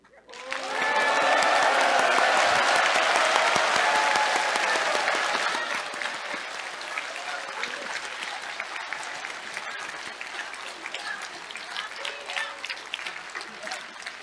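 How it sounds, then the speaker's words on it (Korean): A large audience at a district New Year greeting event bursts into loud, dense applause that holds for several seconds, then eases into softer, sustained clapping with some cheering voices mixed in. "지금까지 들려주시지 않았던 박수 소리를 함께해서 부탁드립니다"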